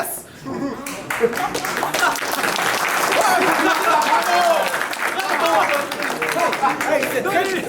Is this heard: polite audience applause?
yes